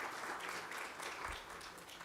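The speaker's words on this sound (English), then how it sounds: "Let's clap for her once again." An audience at a panel discussion on gender inequities in Uganda's creative sector claps for a speaker, a faint, steady patter of applause lasting a couple of seconds.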